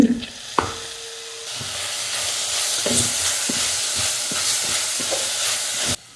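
Tomatoes tipped into a hot pan and frying, an initial clatter followed by a loud, steady hiss and sizzle with occasional spoon taps against the pan, ending abruptly.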